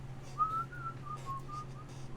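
A person whistles a short wavering tune, clear and close, with no talk over it, during a tabletop Dungeons & Dragons session.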